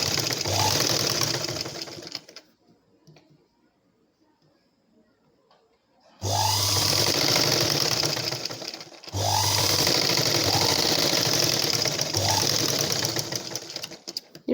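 Sewing machine stitching a cone-shaped dart on a blouse, running in loud sustained bursts of rapid whirring, stopping for a few quiet seconds between runs.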